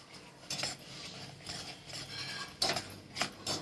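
A metal spoon stirs and scrapes jaggery melting in hot ghee in a pan, giving irregular soft clinks and scrapes close by, with no talking.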